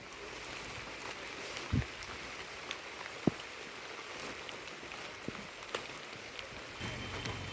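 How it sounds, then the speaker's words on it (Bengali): Heavy rain falls in a steady, dense hiss outdoors, with a few sharp knocks and thumps scattered across it and no talking. "বৃষ্টি আসছে জোরে।"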